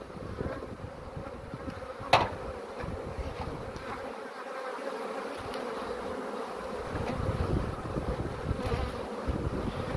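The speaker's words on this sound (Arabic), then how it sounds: "نحل" Honeybees buzz around an open beehive, a steady close swarm hum with occasional louder passes near the ear, a brief knock partway through and light wind rustle, with no speech.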